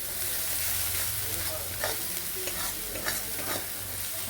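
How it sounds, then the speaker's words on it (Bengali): Spice paste with a spoonful of chilli powder being sautéed and stirred in a pan, a steady frying sizzle with repeated scraping strokes of the spoon throughout, no talk. "পুরো মশলাটা দিয়ে আমি এবার কষিয়ে নেবো মশলাটাকে।"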